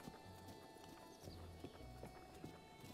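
Horse hooves clip-clop in Breath of the Wild, a quick, uneven run of soft hoofbeats close by over a faint ambient hum, with a brief whinny-like tone mixed in.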